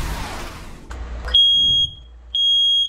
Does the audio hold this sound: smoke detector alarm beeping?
yes